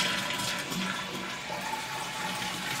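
A toilet flushes after a new replacement flush lever is fitted, with the lid on, making a steady rushing, gurgling wash of water at moderate level for a few seconds, with no talk.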